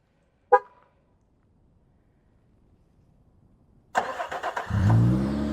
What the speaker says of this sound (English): One press of the lock, one long press of the remote start, starts the truck